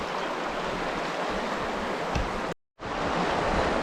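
A glacial runoff stream on Iceland's Laugavegur trail near Landmannalaugar rushes in a loud, steady broadband wash of flowing water, close by, with a brief dropout of sound partway through and no voices.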